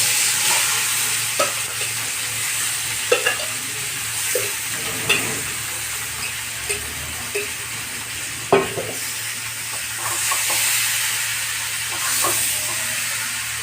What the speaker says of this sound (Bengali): এবার মেখে রাখা এঁচোড়গুলোকে দিয়ে দেবো।